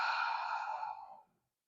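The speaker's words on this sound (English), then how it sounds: "we're going to just let go of the breath out." A deep breath exhaled through a wide-open mouth, one long soft breathy sigh that fades to silence, close and quiet.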